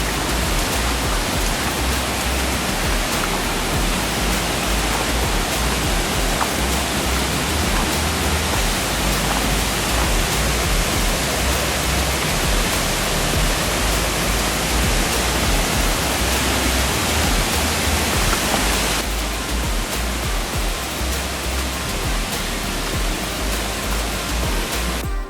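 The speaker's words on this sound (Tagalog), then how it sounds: "may mabatian ka na nga hulis ang tubig nga nagakahulog" Lima-Lima waterfalls pour in a loud, continuous rush of falling water, a dense steady roar that softens slightly toward the end.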